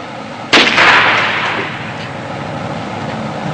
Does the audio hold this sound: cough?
no